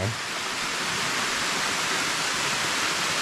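Tad Kon waterfall in Houaphanh, Laos roars as a dense, steady wash of falling water, loud and continuous with no break, with no voices over it.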